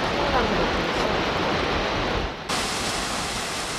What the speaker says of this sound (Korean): 폭포 앞에 서면 폭포가 만들어내는 물보라뿐만 아니라 우렁찬 낙하음만으로도